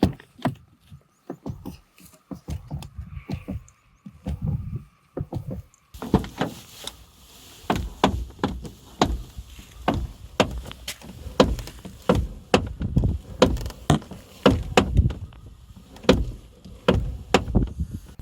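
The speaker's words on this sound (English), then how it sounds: "the door stoppers over time begin to click and make unpleasant sounds" A Peugeot 308 car door is repeatedly swung open and shut, its worn hinge stopper giving sharp clicks and knocks in an irregular series, louder in the second half.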